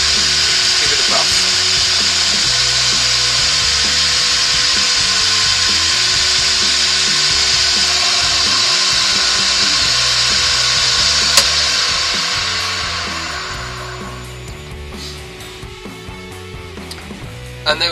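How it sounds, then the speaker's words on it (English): A spinning lathe buffs a stained 11-inch sycamore woodturned bowl, giving a steady high whir that holds for about twelve seconds and then winds down and fades, with a person talking over it. "And then when it's dry, give it a buff."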